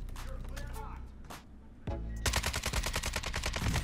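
Rapid automatic gunfire in Call of Duty: Warzone, a fast even stream of loud close shots in the second half, following a stretch of excited talking.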